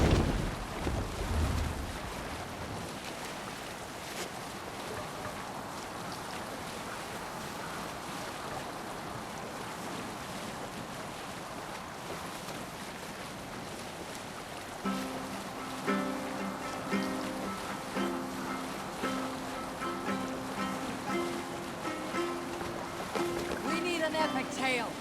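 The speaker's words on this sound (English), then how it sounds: "Good sailing wind here" A Viking longship under sail at sea in Assassin's Creed Valhalla, with wind noise and lapping waves throughout, a soft splash near the start and faint game music joining midway, quiet and continuous.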